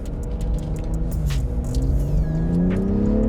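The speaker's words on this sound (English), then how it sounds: "this is the new BMW 340i with the new B58 engine" A BMW M340i with the B58 engine, rated at 275 kW, accelerating on a track, its engine note climbing steadily in pitch as it revs up. The car is heard from close by with a continuous rumbling drone and no talk.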